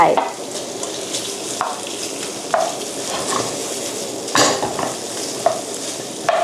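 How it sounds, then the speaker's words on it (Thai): Kimchi pasta sauce is stir-fried in a pan before seafood goes in, a continuous close sizzle punctuated by repeated scrapes and knocks of a utensil against the pan. "เดี๋ยวจะผัดให้เขาสุกแป๊บหนึ่งนะคะ"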